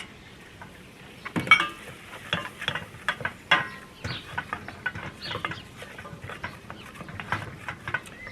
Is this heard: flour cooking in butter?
yes